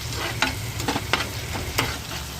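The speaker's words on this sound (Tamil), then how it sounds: "ஸோ அதை நல்லா வதக்கிக்கணும் எண்ணெயில், அப்போ தான் பச்சை வாசனை போக." Coriander leaves sizzle in hot oil while a utensil stirs, with soft scraping taps at irregular intervals over a steady frying hiss.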